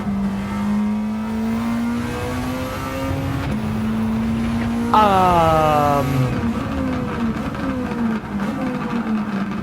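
An Alfa Romeo race car laps Tsukuba circuit in Gran Turismo 7, its small engine droning steadily and climbing in pitch through the gears, with a sharp upshift and higher rev surge midway, loud and close throughout.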